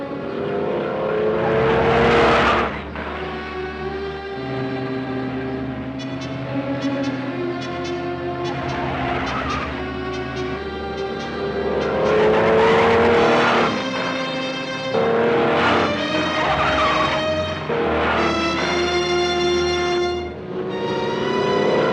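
A 1950s car driven fast on a speed test across varied roads, its engine revving and shifting through gears with rising, repeated accelerating whines, loud and close under a constant road roar, no talking.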